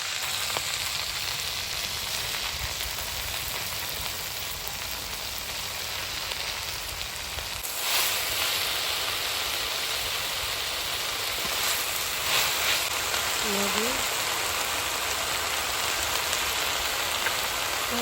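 Leafy greens sizzle in a kadai wok with oil and fried onions. A steady, rain-like frying hiss runs throughout, with occasional louder crackles and a few stirring clinks.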